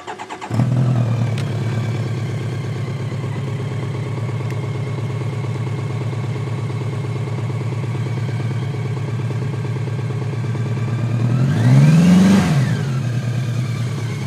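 A motorcycle engine with a titanium exhaust fires up and settles into a steady, loud idle, then revs up sharply near the end before dropping back.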